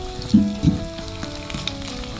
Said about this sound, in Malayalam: ഇതിലേക്ക് അഞ്ച് പീസ് വെളുത്തുള്ളി ചോപ്പ് ചെയ്തത് മൂന്ന് പച്ചമുളക് ഒരു ചെറിയ പീസ് ഇഞ്ചി ചോപ്പ് ചെയ്തത് നന്നായി ഒന്ന് വഴറ്റിയെടുക്കാം